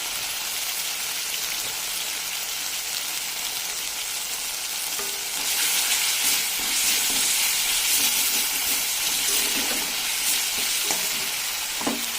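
Spice masala frying in oil for a cauliflower and potato curry, a loud continuous sizzle and hiss that grows more intense about halfway through, with occasional stirring scrapes and no voices.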